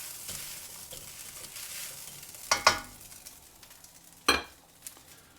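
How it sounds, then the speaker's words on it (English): Fried rice sizzles steadily in a hot pan while it is turned over and flattened, with a few sharp metallic scrapes and clacks from the utensil against the pan. "Just turning the rice over, flattening it out again."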